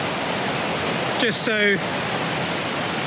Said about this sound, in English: I could get to essentially the top of the waterfalls.